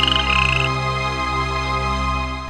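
A frog croaks in one sustained, buzzing call close up, a steady resonant drone with a slight pulsing at the start, heard alone.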